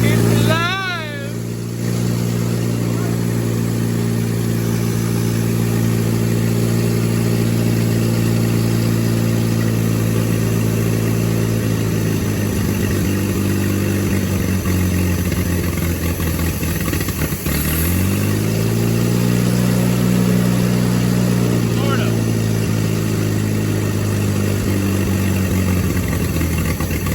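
A tractor engine runs close by after starting, preparing for a tractor pull, idling with a steady, low, throbbing note; mid-way it dips and revs back up, with people talking over it.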